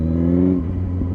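A motorcycle engine, likely a 125, revving hard nearby in winter riding conditions, a loud droning rev that holds high then drops and settles to a lower rumble.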